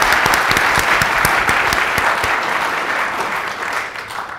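A live audience at a startup talk event breaks into a sustained round of applause, dense and steady for a few seconds before gradually thinning out, with no voices over it.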